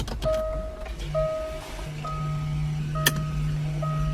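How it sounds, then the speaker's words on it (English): The rear parking brake actuators on a Jaguar F-Type whine in short electric bursts, stopping and starting several times, while a steady low motor hum runs beneath and one sharp click cuts through midway. "that is the rear brake actuators moving and tightening up the slack in the system there"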